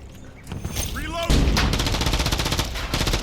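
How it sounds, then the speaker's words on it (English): Sniper rifle shots and gunfire in a shooter video game, dense bursts of sharp loud reports stacking up after a brief rising tone, with a voice briefly audible. "Once again, rather than reload, I clear out the enemy with the sniper."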